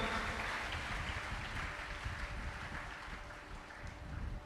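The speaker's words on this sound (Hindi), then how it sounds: "ताली यीशु के लिए।" A church congregation claps together during a Hindi sermon, a dense, sustained patter of many hands that carries on steadily at a moderate distance, with no speech over it.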